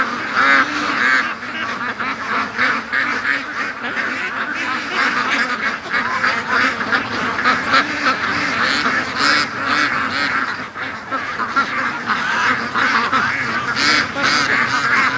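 Free-range ducks back from the lake fill a farmyard with continuous overlapping quacks and honks, loud and close, a dense flock chattering for the whole stretch without pause.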